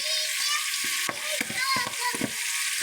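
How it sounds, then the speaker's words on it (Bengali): Hot oil bubbles and crackles loudly and steadily while a large batch of about 3–4 kilograms deep-fries, with a dense continuous sizzle and occasional sharper pops close by. "কেমন ফোঁটা ফুটছে"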